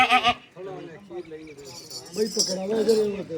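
Makhi Cheeni goats bleat nearby in a livestock setting while people talk, with some faint clinking of metal in the background.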